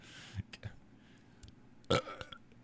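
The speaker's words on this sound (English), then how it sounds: "It was like a cartoon burp." A loud, drawn-out cartoonish burp bursts out near the end, preceded by a few short low thumps and quiet background noise, with no talking.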